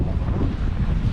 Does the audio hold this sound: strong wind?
yes